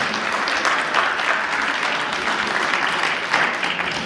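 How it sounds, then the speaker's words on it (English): An audience at an arts and culture showcase gives a round of applause, a dense, steady roar of many hands clapping close and loud throughout. "let's give a round of applause to the Government of Canada for their role in making this program possible"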